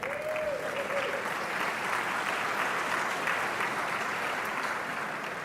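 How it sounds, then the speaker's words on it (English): Steady, dense audience applause fills the room at an energy business forum hosted with the Atlantic Council, where the United States Secretary of Energy appears, sustained evenly throughout without a break. "Feel free to applaud."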